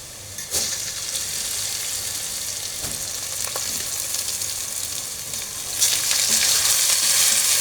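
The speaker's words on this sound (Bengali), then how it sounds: "এখন চাল দিয়ে দেব, দিয়ে চালটা ভেজে নেব।" Rice frying in oil in a pan after onions were browned, a steady loud sizzle with occasional stirring scrapes and a sharper burst of hissing near the end.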